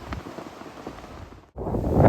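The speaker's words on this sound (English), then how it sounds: "it is too windy to get out. It's actually blowing the truck around a" Strong wind buffets a truck parked at Mushroom Rock State Park in rural Kansas, a steady broadband roar that dips to near silence briefly before a louder gust surges back.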